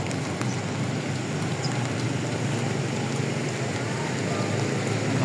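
Steady rain falling at Marikina River Park, a dense, even wash of patter and hiss that holds at a constant level throughout with no pauses.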